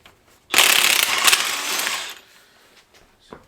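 A DeWalt cordless impact gun fires a single loud rattling burst lasting about a second and a half, then cuts off into quiet, with a faint click near the end.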